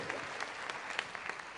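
Conference audience at a skeptics' event applauding a speaker, a steady, dense clatter of many hands clapping close and loud throughout, with no pauses.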